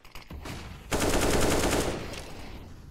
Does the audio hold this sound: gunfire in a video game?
yes